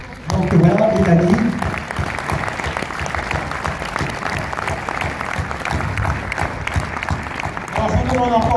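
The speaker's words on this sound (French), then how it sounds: "je vous demande encore d'applaudir très fort" A cinema audience at a film premiere in Orléans applauds steadily under a speaker's voice at the start and end, with dense, continuous clapping filling the room.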